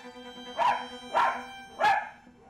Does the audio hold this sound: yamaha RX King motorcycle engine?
no